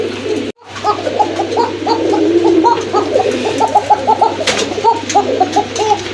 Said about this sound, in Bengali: অনেকদিন পরে এক জোড়া কোকা কবুতর দেখলাম যেগুলো কিন্তু প্রচুর ডাকে